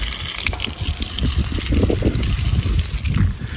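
Water splashes and gushes continuously from a public drinking water tap on the Hadrian's Wall Trail, a close, steady outdoor flow with faint breeze noise behind it.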